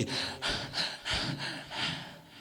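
A voice imitates a running horse panting, with about six rhythmic, breathy huffs in quick succession, close and fairly loud.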